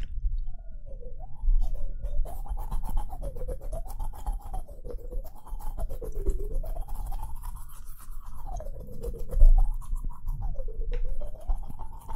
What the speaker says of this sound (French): Ça fait un peu penser au bruit de quelqu'un qui se brosse les dents.